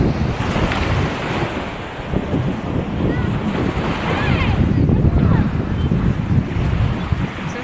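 Sea waves wash steadily ashore at Chennai beach under strong, constant wind buffeting the microphone, a loud continuous roar with no voices.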